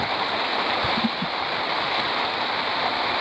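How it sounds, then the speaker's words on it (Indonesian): Heavy rain pours steadily outside a house, a dense, loud, continuous hiss of water falling with no pauses, heard close by. "ini hujannya pada mau gede nih"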